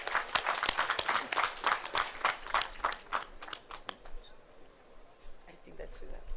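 Audience applause at a university graduation ceremony, a run of distinct claps that is loudest at first and thins out, with a voice speaking over the later part.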